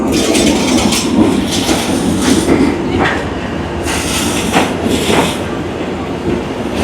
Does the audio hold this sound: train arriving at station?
yes